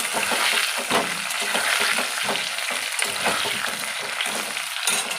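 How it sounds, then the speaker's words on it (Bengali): Potatoes and carrots frying in a hot pan for khichuri, a steady close sizzle with intermittent stirring scrapes and clatters throughout. "এখানে আলুটা ভাজছি"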